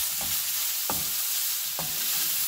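Marinated carne asada beef sizzles in a hot pan with a constant bright hiss, broken by three soft scraping stirs of a utensil at even intervals, close and steady.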